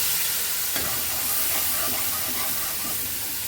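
Ground cumin, turmeric and coriander with salt hit hot oil for a dhokar bora curry, giving a loud, continuous close-up sizzle with one brief stirring knock near the start.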